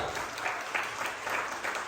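A church congregation claps briefly and faintly in a steady rhythm during a sermon, a short burst of distant applause with no clear talk over it.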